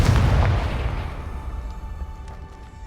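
A Confringo spell explosion in the Hogwarts Legacy video game, one heavy boom that opens loud and then rumbles and fades away over a few seconds.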